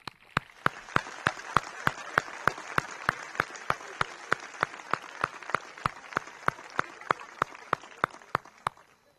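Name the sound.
applause at a high school capping ceremony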